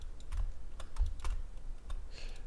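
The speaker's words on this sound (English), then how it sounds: "So I'm going to hit O, or letter O on the keyboard" Computer keyboard keys are pressed in a short irregular series of light, close clicks and taps in a quiet room.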